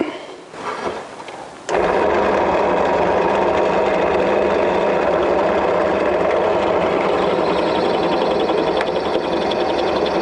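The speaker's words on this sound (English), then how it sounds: "So just let me drill a hole in there." A drill bores a hole in metal for a motorcycle front fender, starting abruptly after a brief quiet moment and then whirring steadily and loudly, grinding continuously for several seconds.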